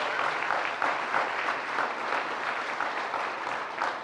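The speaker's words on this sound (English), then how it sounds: "Let's give them a round of applause for that." An audience at a high school tournament season finale claps steadily and loudly, a dense sustained round of applause with no voices over it.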